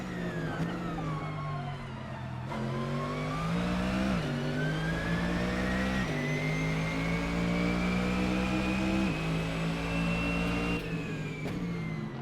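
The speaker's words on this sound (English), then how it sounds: "So that was a lap around Laguna Seca with the Mercedes-AMG GT3 Evo" A Mercedes-AMG GT3 Evo race car engine in the Assetto Corsa racing game, lapping Laguna Seca: a loud continuous engine note rising and falling through gear changes and revs, alone with no talk.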